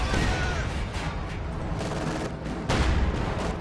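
Heavy weapon fire from a tank in the World War II strategy game Company of Heroes 2, a dense, continuous barrage of booming shots and explosions layered over a constant battle din, with a louder burst near the end.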